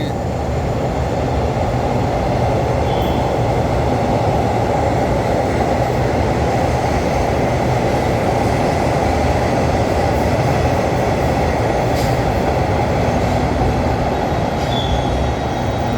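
An express train, number 136 from Ubon Ratchathani, passes on a Thai state railway line: a steady, loud rumble of wheels and cars rolls continuously for the whole stretch, with faint metallic squeals high above the roar.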